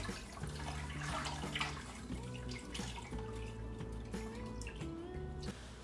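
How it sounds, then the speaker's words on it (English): Lye solution is poured into a batch of peppermint soap, giving a steady liquid trickle and splash with a soft tonal backdrop and no talking. "And I'm just pouring my lye solution in."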